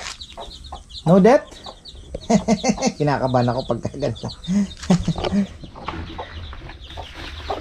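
Farm chickens clucking loudly and close while being fed rice husks, with repeated bursts of clucks and calls mixed with a person talking.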